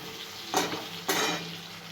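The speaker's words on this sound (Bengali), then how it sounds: "তো এখানে ওই তেলের মধ্যেই আমি বেগুনগুলো দিয়ে দেবো।" Eggplant slices dropped one at a time into hot oil, each landing with a loud, close hiss of sizzling that then settles into a softer, steady fry; two distinct bursts about half a second apart.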